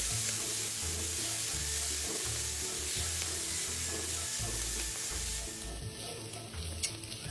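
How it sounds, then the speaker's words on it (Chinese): Chopped dried shrimp, diced Chinese sausage and minced garlic stir-fry together in a pan, with a steady sizzle and repeated scraping strokes of the stirring spatula that fade near the end. "将所有食材一起拌炒至香味溢出"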